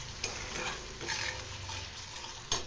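Masala with Kashmiri chilli fries in oil while being stirred, a close crackling sizzle with spoon scrapes and a couple of sharp clinks against the pan.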